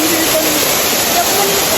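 San Jose Falls in Tandag roars as a loud, steady rush of falling water, dense and unbroken from start to finish.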